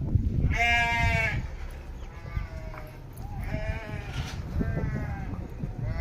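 Two or three goat bleats, wavering and nasal, rise above a steady low outdoor rumble, with a longer loud cry first and quieter ones after.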